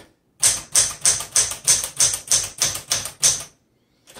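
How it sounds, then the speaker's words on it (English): A 1973 Smith Corona Sterling manual typewriter with elite type being typed on: about ten sharp, evenly spaced key strikes in a steady rhythm, loud and close, then a pause and one last strike. "This is going to be a good typewriter for crafts."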